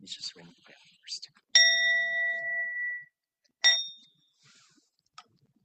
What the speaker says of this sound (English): Let me just ring the bell first.